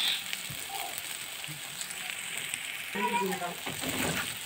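Banana stem fritters frying in oil, a steady close sizzle with a few scraping clinks as the pieces are turned, and a brief voice partway through.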